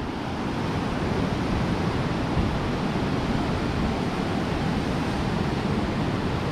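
Steady broadband rush of river water at the confluence of the Alaknanda and Pindar rivers at Karanprayag, loud and continuous with no talking.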